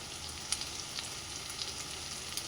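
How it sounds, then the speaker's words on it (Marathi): Brinjal bharit ingredients frying in a kadhai, a soft steady sizzle with a few light stirring taps, close and fairly quiet, no talking. "त्याला फ्राय होऊ द्या चांगलं"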